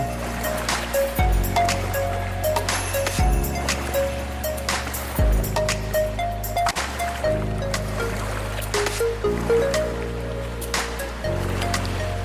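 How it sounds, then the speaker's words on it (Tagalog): Ocean surf breaking on a beach, with steady wash and broad rumbling swells rising and falling in near surges throughout, loud and without speech. "Ang lakas ng alo na sobra kang mapapahiyaw kapag humampa sa iyo ang tubig"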